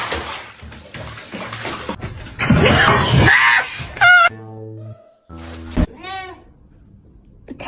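A cat meows several times, loud and close, while in water, with bursts of splashing and some background noise between the calls.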